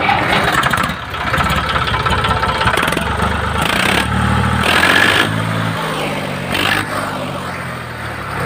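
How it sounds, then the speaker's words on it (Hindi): A used 2005 tractor's engine cranks and fires up at a rural tractor market, settling into a loud, close, rumbling idle with a few revs, no voices over it. "आइए स्टार्ट करके देखते हैं"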